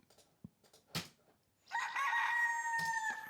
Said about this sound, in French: donc on a mis un coq